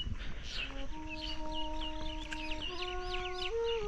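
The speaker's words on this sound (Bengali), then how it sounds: "সকালে পাখি ডাকছে" Rooster crowing and hens clucking mix with other birds calling on a foggy winter village morning. The calls are steady and moderately distant, with no talking.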